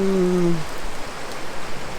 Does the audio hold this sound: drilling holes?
no